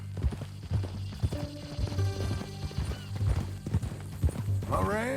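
Horse hooves clip-clopping at a steady walking rhythm in the Red Dead Redemption video game, close and continuous under characters' talk, with a horse whinny near the end.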